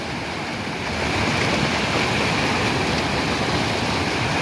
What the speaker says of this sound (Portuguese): E vai descendo muita água, hein? Do Rio Salgado para o Castanhão.